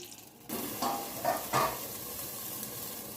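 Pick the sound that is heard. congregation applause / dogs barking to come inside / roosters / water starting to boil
water starting to boil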